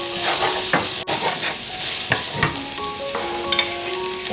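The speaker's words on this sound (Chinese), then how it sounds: "香菇、冬笋都倒进去" Shiitake mushrooms and winter bamboo shoots hit hot oil with Sichuan pepper for mapo tofu, a loud crackling sizzle with stirring scrapes and spattering pops, no talk.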